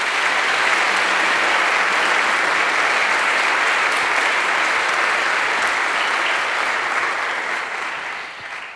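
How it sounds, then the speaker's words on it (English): A church audience at a choir concert breaks into sustained, loud applause, dense even clapping filling the space and fading slightly near the end, with no voices on top. "So if you could give them a round of applause."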